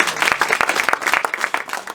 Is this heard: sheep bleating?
no